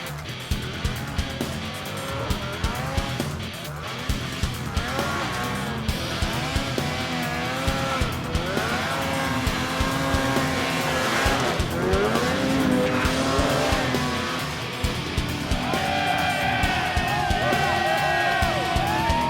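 Racing snowmobiles climb Snow King Mountain in Jackson Hole, engines roaring loud and continuous, pitch rising and falling with revs, with a faint crowd and some talk underneath.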